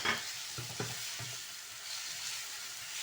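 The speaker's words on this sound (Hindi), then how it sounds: "अब मैं इसमें टमाटर डालती हूँ" Tomatoes dropped into a hot pan of sizzling ginger garlic paste, a few soft thuds near the start over a constant hiss of frying that settles into a steady sizzle, quiet and close, with no voices.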